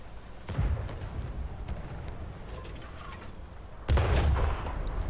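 Tank cannon fire in World of Tanks console, a Chieftain shooting at a Progetto: two heavy booming blasts with low rumble, one near the start and a louder one near the end, over steady battle ambience with no talking.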